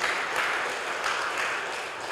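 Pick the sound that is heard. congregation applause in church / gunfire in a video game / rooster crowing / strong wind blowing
congregation applause in church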